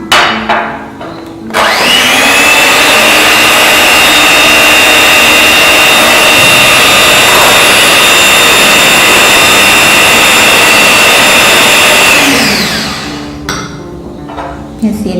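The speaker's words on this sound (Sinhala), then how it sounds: "එකත් එකතු කරලා දැන් ටිකටම අපි මේක බීට් කරගෙන යනවා" An electric mixer beating chocolate mousse mixture with sugar, switching on with a loud, steady high-pitched whir that runs unbroken for about ten seconds before winding down, with brief clatter at start and end.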